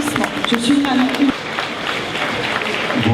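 Audience applause greets Didier Dinard at the 40th-anniversary celebration of the cultural association Accolade: a steady wash of clapping and crowd noise, close and fairly loud, with a voice talking over it.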